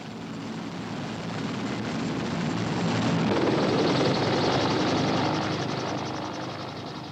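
A helicopter shuttling to the American fleet in the South China Sea passes close and loud, its rotor thrum swelling to a peak in the middle and then fading slightly as it moves away.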